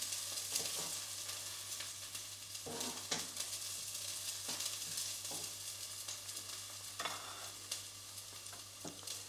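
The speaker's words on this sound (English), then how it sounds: "We're going to cook the spring onion just for a couple of minutes quickly, moving around constantly." Spring onion is stir-fried in a hot pan, giving a steady crackling sizzle with repeated spatula scrapes and tosses as it is kept moving, under a low constant hum.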